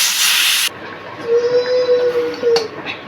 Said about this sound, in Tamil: இப்போ விசிலை எடுத்துகிட்டு ரிலீஸ் பண்ணிவிட்டு